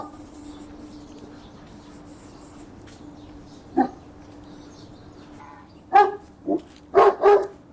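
A dog barks in an old village on the edge of Tehran, giving one single bark and then a cluster of several quick, fairly close barks over a quiet outdoor background.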